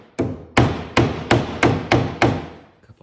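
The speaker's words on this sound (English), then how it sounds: "And then I'm gonna grab Mr. Hammer." A small hammer taps delicate wooden door trim while a door jamb is being extended: seven sharp, evenly spaced knocks, close and loud, with no talk.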